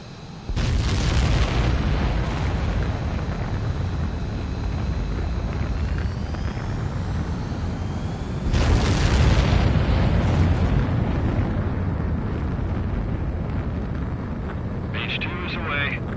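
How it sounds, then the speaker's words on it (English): A fighter jet takes off in the video game Ace Combat 7 with a loud, sustained engine roar that starts abruptly and surges harder about halfway through, then holds steady to the end. "H2, begin takeoff sequence."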